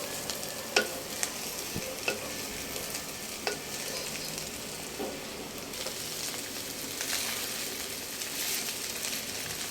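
Poha frying in a clay pot while being stirred, a continuous low sizzle broken by several sharp scrapes and taps of the spoon against the pot, close and without talking.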